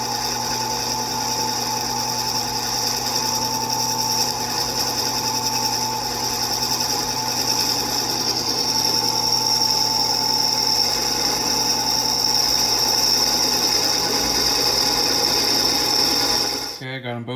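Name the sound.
battery-operated DeWalt grinder cutting metal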